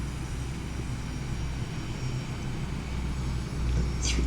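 A steady, droning aircraft engine in a flight simulator, rising a little as the throttle is pushed up near the end, continuous and fairly loud, with no talking.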